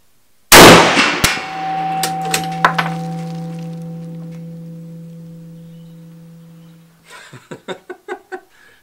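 A Gewehr 98 bolt-action rifle fires one sharp, loud shot outdoors, followed by a long, fading metallic ring from a struck steel target. Later comes a quick series of lighter clicks and clacks.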